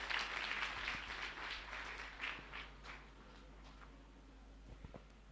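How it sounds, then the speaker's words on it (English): Applause from a school annual day audience for the judges, broadband clapping fairly faint and distant that tapers off over a few seconds. "please give a huge round of applause for the judges"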